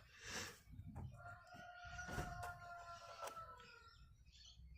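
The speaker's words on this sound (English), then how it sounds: "Roosters." A rooster crows once in the distance, a faint drawn-out call over quiet background noise.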